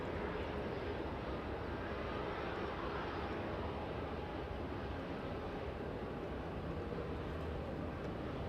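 A Delta Airlines airplane rumbles at LAX airport, a steady broad roar of jet engine noise held at an even level throughout, with no speech.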